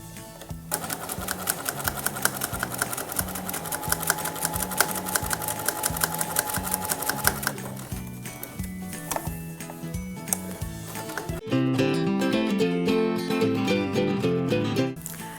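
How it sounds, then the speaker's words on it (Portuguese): Sewing machine running steadily while stitching along a drawn line on fabric, a close, continuous rapid whirr and clatter that shifts to a brighter, louder run near the end. "Vamos passar a costura em cima do risco, deixando em aberto aqui e aqui."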